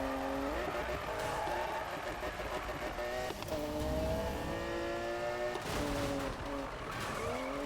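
Race cars in Need for Speed (2015), engines roaring and shifting pitch through gear changes with tire noise, loud and continuous, with a voice speaking over the driving.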